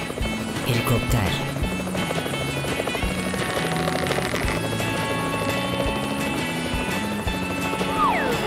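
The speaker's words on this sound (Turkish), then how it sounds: "Helikopter." Loud, continuous helicopter rotor noise thrums steadily close by, a dense chopping roar with whining engine tones over the whole stretch.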